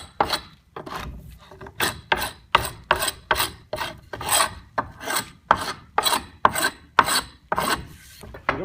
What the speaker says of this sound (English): take the glue scraper, scrape the beads of glue off it